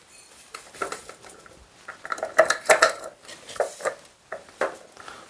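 A utensil stirs and clinks against a bowl of chicken burger mixture, making irregular light scrapes and taps that grow busier in the middle. The sounds are close and clear, with no talking.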